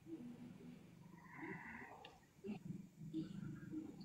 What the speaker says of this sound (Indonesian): Siapa ngorok?